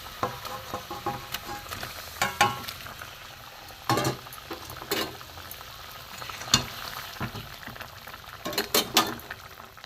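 Cabbage paneer pieces drop one by one into boiling gravy, giving a bubbling simmer with repeated splashes and sharp bursts at irregular intervals, close and moderately loud.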